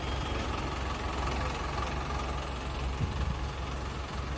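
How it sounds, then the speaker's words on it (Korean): A 3.5-ton refrigerated box truck's engine idles steadily nearby, a low constant rumble with a faint knock and no talking. "엔진 소리가 정말 조용합니다."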